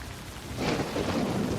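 Rain pouring down with rolling thunder, a dense hiss that swells as a low rumble builds partway through, loud and close with no voices.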